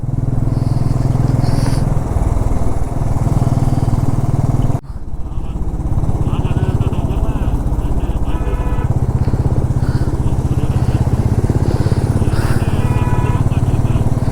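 A motorcycle carrying luggage climbs a winding mountain road near Shimla, its steady engine drone loud and continuous at moderate speed in second or third gear, with wind rumble and a brief dip partway through.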